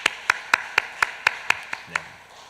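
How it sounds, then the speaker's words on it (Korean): A church congregation at a Friday prayer service claps in a steady, rhythmic beat, about eight sharp unison claps at an even pace, close and clear, fading near the end. "우리 하나님께 우리 감사의 영광을 또 박수를 우리 먼저 올려드리도록 하겠습니다."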